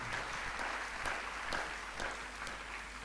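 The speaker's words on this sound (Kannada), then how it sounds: "ಚಪ್ಪಾಳೆ ಹೊಡಿಬೋದು ಜೋರಾಗಿ" Applause from an audience at an ex-servicemen's forum tenth-anniversary celebration in Moodbidri, Karkala, a steady broadband patter of many hands, moderately distant and continuous, with faint background voices.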